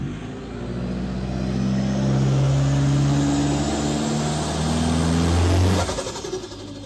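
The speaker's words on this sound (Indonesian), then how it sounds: "Karena 2KD ditambah turbo, suaranya bisa merdu banget kayak gini nih." A 2KD turbocharged diesel engine revs steadily, its deep drone swelling and holding, with a faint high whistle over the rumble before it eases off.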